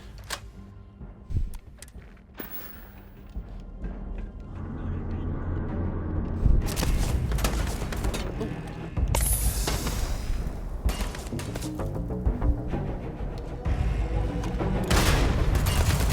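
Rapid bursts of explosive-round gunfire and booms in the sci-fi video game Starfield, loud and sustained through most of the clip, with dense continuous firing building from the midpoint onward.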